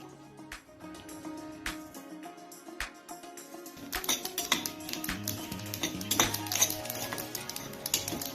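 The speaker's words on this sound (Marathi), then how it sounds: "तडतड उडेपर्यंत भाजून घ्यायचे" Sesame seeds roast in a kadhai, crackling and popping in quick irregular bursts that grow denser and louder, with faint scraping of the pan.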